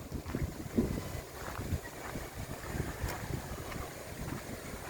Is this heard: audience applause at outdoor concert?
no